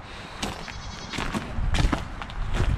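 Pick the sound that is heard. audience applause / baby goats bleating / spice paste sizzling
baby goats bleating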